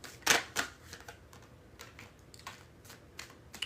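A deck of playing cards being shuffled gives a series of sharp, close papery snaps and clicks, with one loud burst at the start and lighter taps scattered after.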